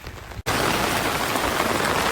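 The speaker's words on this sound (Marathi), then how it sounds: "आत्ता तर पाऊस खूप खूप खूप मोठा आलेला आहे बघा." Heavy monsoon rain in Mumbai: after a brief quieter moment and a sharp cut, a loud dense roar of rain hammering surfaces fills the rest, steady and close.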